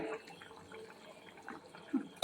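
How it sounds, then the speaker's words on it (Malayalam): Faint, soft bubbling of a simmering pot, with occasional small pops and gurgles in a quiet room. "കറി തിളയ്ക്കുന്നുണ്ട്."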